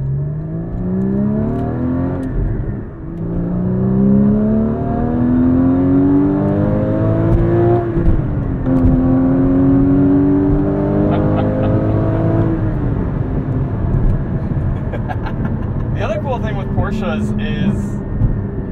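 A 2016 Porsche Cayman GT4 with a 3.8-litre engine accelerating hard on a road drive, its rising revs climbing through several gears with brief dips at shifts, loud from inside the car, followed by a faint clicking near the end.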